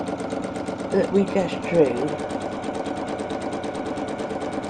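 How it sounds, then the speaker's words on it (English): A sewing machine runs steadily, stitching fabric around a curved arc while shaping a round cushion form from a square one; the even mechanical whir continues under a person talking throughout. "I'm just sewing around that arc"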